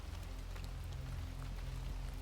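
Steady rain falls as a dense, even patter of drops behind a low constant rumble, continuous and moderately close with no voices.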